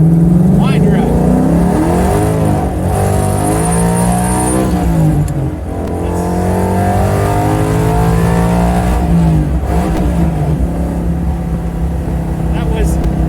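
A car accelerates hard through first and second gear, its engine revving up to 7,500 RPM in loud, rising sweeps with a brief dip at the shift, recorded from inside at close range.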